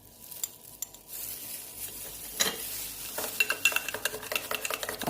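Sugar and instant yeast for burger buns being mixed by hand in a bowl, with a spoon scraping and clinking steadily against the sides in quick repeated strokes that grow busier toward the end.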